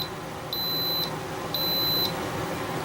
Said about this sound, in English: It'll beep.